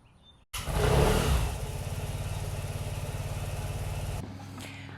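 A Vespa scooter engine while riding: it revs up sharply, then holds a loud, steady, buzzing drone close by before cutting off to quieter background.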